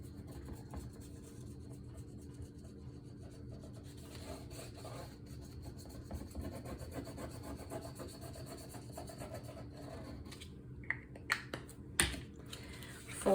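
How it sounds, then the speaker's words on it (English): Paper folded over a chipboard album cover is burnished down by hand, making quiet, close rubbing and scraping strokes, with a few sharper taps and clicks near the end. "burnishing it down so that it's nice and smooth and a tight, crisp fold on the cover."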